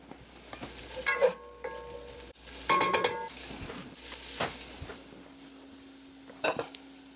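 Pancetta sizzles in a pot while being stirred, a steady close frying hiss broken by scraping and clinks of a utensil against the metal.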